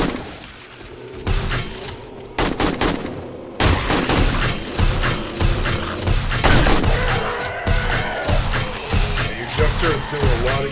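In 7 Days to Die, a junk turret fires loud rapid bursts of gunfire, short volleys at first, then near-continuous shooting mixed with mechanical clatter and thuds, with a voice talking in places.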